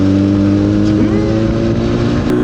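Kawasaki ZX-10R sport motorcycle engine loping along at slow speed, a steady low, loud drone with layered harmonics and a brief pitch shift midway, recorded close by an external mic.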